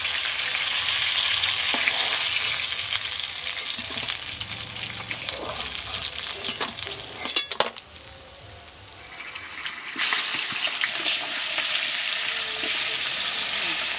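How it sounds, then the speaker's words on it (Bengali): Chopped homegrown brinjal and potato frying in fish oil, a loud, steady close sizzle with stirring scrapes that dips briefly midway and then surges back strongly. "এগুলো কুচিয়ে কুচিয়ে ভাজবো মাছের তেল দিয়ে"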